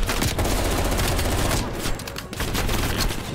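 Sustained automatic gunfire in Call of Duty: Black Ops Cold War, loud and dense for the whole stretch, with a brief dip in the middle before the shooting resumes.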